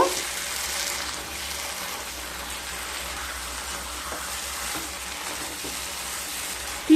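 Ash gourd with powdered sugar is stirred in a pan, giving a steady soft sizzle with faint scraping, fairly quiet and even throughout, with no voices.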